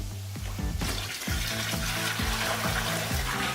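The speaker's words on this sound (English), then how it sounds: "I think the first thing we have to do is fill up with water." Water pours steadily into a container being filled for hydro dipping, a close, loud running splash with rhythmic gurgling pulses throughout, no talk.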